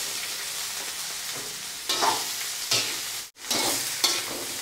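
Okra and mushrooms frying in a pan are stirred with no water added: a dense, constant sizzle with rhythmic scraping sweeps up close, broken by one brief silent gap.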